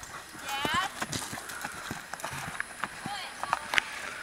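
Horse hooves clip-clop in an irregular rhythm at moderate distance, with sharp individual hoof strikes and people chatting over them.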